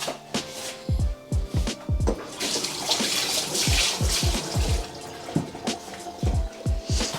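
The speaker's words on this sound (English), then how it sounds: "Let's wet my hands." Tap water runs in bursts while hands are wetted before stretching and folding focaccia dough, a near, splashing flow that starts and stops several times amid soft handling sounds.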